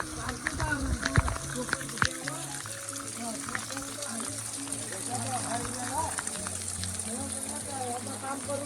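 A heavy monsoon downpour in Konkan hits surfaces nearby as a steady, dense hiss that never lets up, with faint voices and a low hum underneath.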